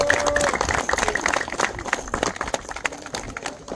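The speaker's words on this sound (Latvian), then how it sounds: "Aplausi Mihailam, 3. vietā." Audience applause at a children's and youth fishing cup award ceremony, steady dense clapping filling the room for several seconds as a medalist is honored.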